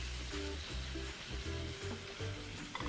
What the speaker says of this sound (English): you want each of the prawns to get a chance to be right against the hot surface of that pan